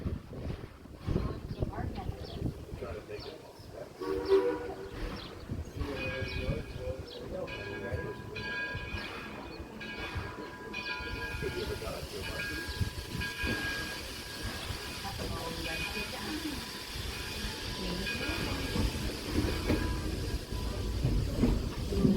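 Rumbling ride aboard the Greenfield Village Railroad train, a steady rolling clatter of rail cars with wind buffeting the microphone, continuous and fairly loud throughout, with a voice speaking over it.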